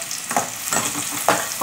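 Onion frying in oil in a pan for a mushroom bhaji, a steady close sizzle broken by a few scrapes of stirring.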